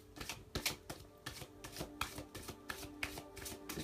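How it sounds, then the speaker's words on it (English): Oracle cards being shuffled by hand, a quick run of crisp riffling slaps repeating in a steady rhythm, close and fairly quiet with no talking. "And with that, I'm going to start shuffling my cards."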